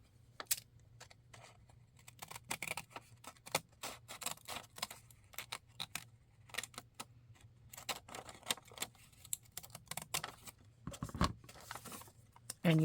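Scissors snipping paper to shape a gusseted French fry bag for a junk journal craft: a steady run of small, quiet, crisp clicks and snips, close up, with a faint low hum behind them.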